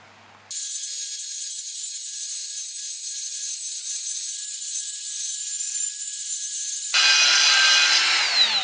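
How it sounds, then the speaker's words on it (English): A die grinder working on an engine adapter spacer during a Chevy 372 engine mock-up: a loud, steady high-pitched whine that kicks in abruptly, holds for several seconds, then shifts pitch as it spins down and the tone changes, with no talking. "We'll just blend the bottom section here in situ and start grinding."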